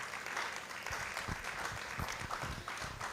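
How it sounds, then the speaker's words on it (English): Audience clapping at the official launch of the Complete Farmer grower and buyer platforms. Quiet, steady applause from a gathered crowd, a few nearer claps standing out against the softer wash over about three seconds. "A round of applause for Complete Farmer"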